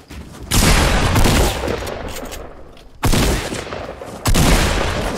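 Shotgun blasts in the Fortnite video game: three loud, sharp booms, each trailing off into a rough, noisy decay, set against constant game background ambience.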